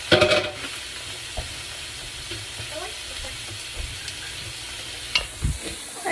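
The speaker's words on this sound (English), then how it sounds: "I got my meat browning" Meat browns in a hot pan with a steady sizzle, broken by several sharp clanks and scrapes from stirring, with a faint voice now and then.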